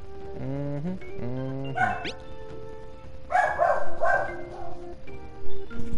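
Dogs barking nearby indoors, a burst of short yips and barks followed by a second louder cluster of overlapping barks, with other household noise faint behind.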